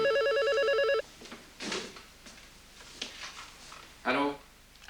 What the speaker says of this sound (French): Allô? Allô, docteur Higuini?